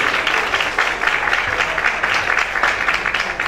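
An audience applauds continuously at a live event, a dense, loud wash of many clapping hands that holds steady for several seconds without pause.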